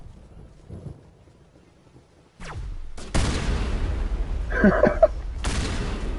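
High-explosive rounds fire in Mass Effect 1, with a quiet stretch before a sudden loud blast that turns into sustained booming gunfire, plus a short burst of speech and a couple of sharp metallic pings.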